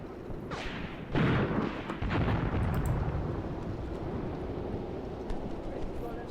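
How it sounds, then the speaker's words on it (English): Artillery shells burst in the WWII tactical game Graviteam Tactics Mius Front, with a couple of sharp explosions early on giving way to a sustained rumbling battle din, as someone talks over the noise. "As you can see, our men are not immune from that artillery."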